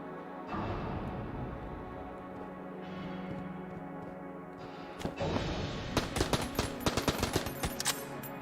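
Video game gunfire erupts in rapid bursts in the second half, sharp repeated shots rising over a steady game soundscape of background hum and effects.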